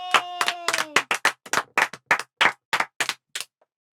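Classroom students clap in a steady unison rhythm, about a dozen sharp claps close by, with a sung voice at the start and a quiet end.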